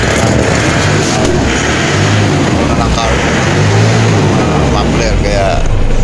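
A car engine with a carbon-clogged muffler runs steadily for a test, giving a loud, continuous, rough rumble that fills the whole stretch, with no clear revving peaks.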